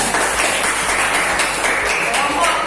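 Classroom of seventh-grade students applauding a student group after a science lesson on acids and bases, a dense wash of clapping held at steady volume throughout.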